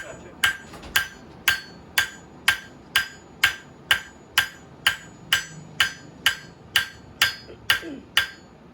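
Steady hammer blows on a knife blade at an anvil, about sixteen evenly spaced ringing strikes, close and loud, with faint talk between them.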